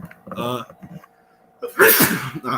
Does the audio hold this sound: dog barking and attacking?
no